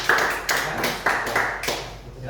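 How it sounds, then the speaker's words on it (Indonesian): An audience claps for a team at a university teaching session, a few brief rhythmic bursts of hand claps over roughly two seconds, fairly close and moderately loud. "Bagus sekali tepuk tangan untuk tim."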